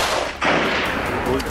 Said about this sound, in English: We signaled and opened fire.